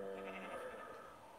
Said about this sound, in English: I even heard the sheep laugh as well